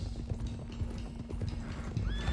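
Horse hooves clip-clop at a steady trot in Red Dead Redemption 2, close and continuous over a low rumble, with a brief neigh rising near the end.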